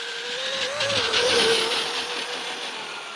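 Traxxas Maxx RC car accelerating hard into a wheel stand on a cold-weather lipo speed run, a loud steady electric motor whine rising and falling slightly in pitch over a broad rushing drive noise.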